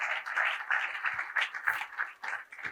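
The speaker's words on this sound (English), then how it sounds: "Please, a round of applause." Audience applause at a business leadership conference, a fairly close burst of clapping with uneven swells and dips over a few seconds, no talking over it.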